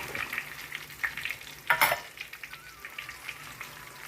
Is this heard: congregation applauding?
no